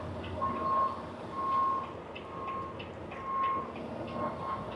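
Trucks manoeuvring at a busy loading yard in snow, with a reversing alarm beeping in an even repeated rhythm over steady engine rumble at moderate distance.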